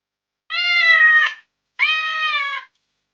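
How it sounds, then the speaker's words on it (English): Two drawn-out meows from a cat, each lasting under a second, close and clear with a brief silence between them and nothing else in the background. "This is a cat."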